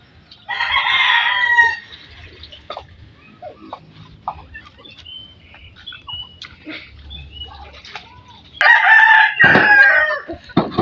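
Hens and roosters at a backyard feeding, with loud close crowing at the start and again near the end and scattered clucks and pecking between, no talk.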